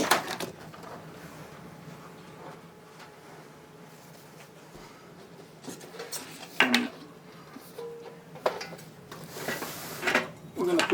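Metal drawers of an IKEA Helmer cabinet are handled during assembly, giving scattered clanks, rattles and scrapes of thin sheet metal, clustered toward the end, while a person talks throughout.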